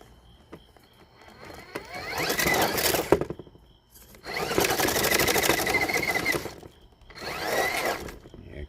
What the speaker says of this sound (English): Feel that motor giving out on me.